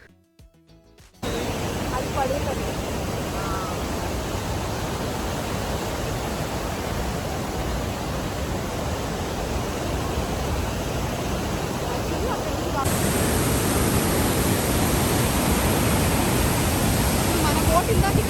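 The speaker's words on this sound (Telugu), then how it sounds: "లెఫ్ట్లో ఉన్నది వచ్చేసి అమెరికన్ ఫాల్స్, రైట్లో ఉన్నది వచ్చేసి బ్రైడల్ వేల్ ఫాల్స్" The American Falls and Bridal Veil Falls at Niagara Falls make a steady, broad roar of rushing, crashing water that is loud and continuous and rises slightly partway through, with no speech.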